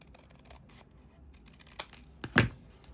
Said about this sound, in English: I'm gonna come in with my scissors and I'm gonna trim to the edge